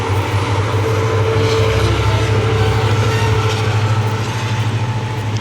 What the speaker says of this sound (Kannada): ನೋಡಿ ಟ್ರೈನ್ ಬಂತು, ಟ್ರೈನ್